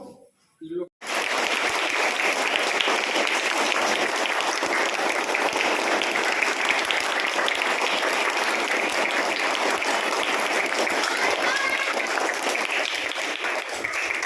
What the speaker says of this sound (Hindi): तालियों के गड़गड़ाहट के साथ ही मल्यार्पण हो गई।